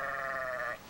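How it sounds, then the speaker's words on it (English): A sheep bleats loudly and close, one sustained, wavering bleat that fades out at the end, heard during a herd drive of thousands of sheep heading south for the fall. "The sheep are happy to head to warmer climes. They go by the thousands, and they don't go quietly."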